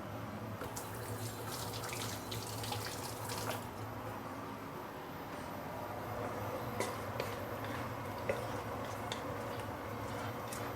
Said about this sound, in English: I'm putting hot water here so you can expedite the cooking process a bit.